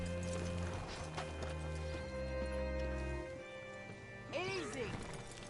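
Horse in the Red Dead Redemption 2 video game, hoof clops and movement under a low musical drone, ending with a short snort or whinny near the end.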